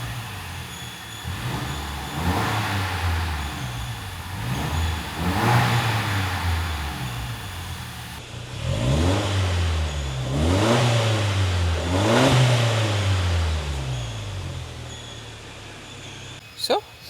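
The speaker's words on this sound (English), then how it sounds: "give her some revs, and check how the engine sounds" A 2025 Toyota Land Cruiser Prado LC250 engine is revved repeatedly from idle, several rising and falling surges in two sets, loud and close with a steady hum between, ending with a brief click.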